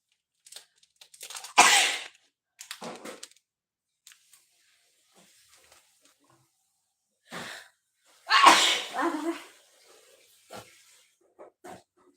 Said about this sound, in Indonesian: Oh, bersin guys.